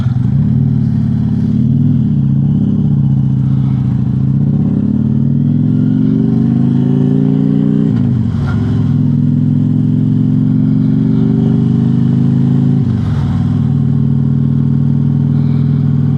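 A car engine drones steadily while driving on a hot day, loud and close throughout, with pitch dips around gear changes and occasional knocks.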